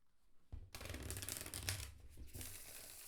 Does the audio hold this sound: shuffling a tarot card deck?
yes